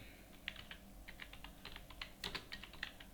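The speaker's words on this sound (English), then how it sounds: "So you have to type labor charges." Typing on a computer keyboard during Tally Prime accounting data entry, a quiet run of light, fast key clicks in uneven bursts, steady and close with no voices.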